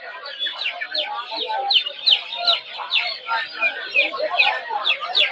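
Tiger chicken chicks at a busy poultry market in Narsingdi keep up a constant stream of high, overlapping cheeps and clucks, close and lively.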